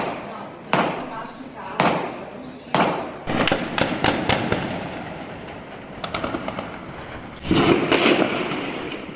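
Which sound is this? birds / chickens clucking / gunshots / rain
gunshots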